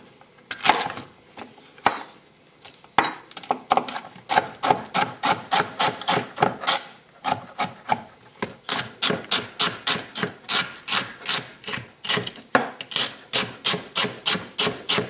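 Celery being chopped with a kitchen knife on a board, a fast, steady run of crisp close-up cuts with brief pauses and no talking.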